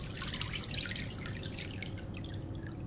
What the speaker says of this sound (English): She soaked it in water,